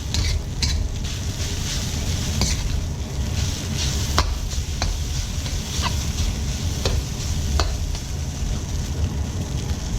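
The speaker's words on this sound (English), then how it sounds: "Then you want to stir in the pad thai sauce that we made at the beginning." Pad thai is stirred and tossed in a hot pan, an even sizzle mixed with rough scraping and several sharp clacks of a utensil against the pan, close up, with no talking.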